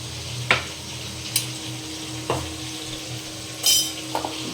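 Coriander and chili spices fry in a pan with a faint, steady sizzle. A few soft clinks and scrapes of a spoon stirring sound against the metal.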